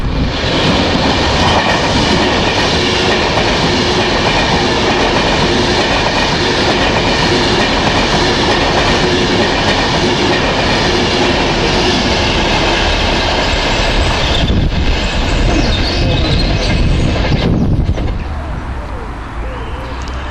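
A Virgin Trains Class 390 train, unit 390104, roars past at Alsager, a loud, steady rush of wheels and air with rail clatter that holds for most of the pass and then suddenly drops away as the train clears.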